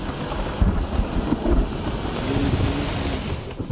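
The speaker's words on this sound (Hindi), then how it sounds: "वक्फे वक्फे से बारिश शुरू हुई।" Heavy rain pours during a thunderstorm in Peshawar, a dense, continuous hiss with low rumbling swells and gusty buffeting, loud and steady with no voices.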